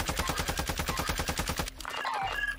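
Rapid automatic gunfire during a Warzone tournament match, about twenty evenly spaced shots in a steady burst, then an abrupt stop followed by quieter game sounds.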